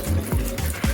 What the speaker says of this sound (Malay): kalau kita buang air dia, air kotor ni, kita tengok air yang keluar tu agak bersih